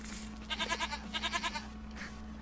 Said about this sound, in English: Is that a goat? There's a goat already.